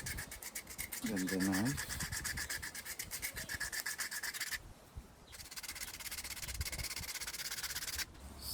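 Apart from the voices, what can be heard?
sanding a wooden slingshot with sandpaper on thin board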